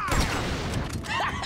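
A burst of rapid gunfire from Grand Theft Auto V during a hunting mission, loud and continuous over a brief moment with booming low end.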